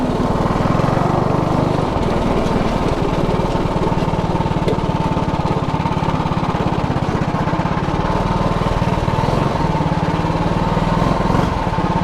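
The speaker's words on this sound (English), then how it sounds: "I've wanted to ride the go-kart for the last like 2 months" A go-kart with a Predator 212 Ghost engine runs steadily nearby, a loud, continuous mid-pitched engine drone with a fast, rough pulse that holds without a break.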